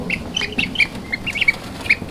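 A newly hatched gosling from an incubator giving a quick series of high, thin peeps and chirps, close and fairly loud, with short gaps between calls and no talk.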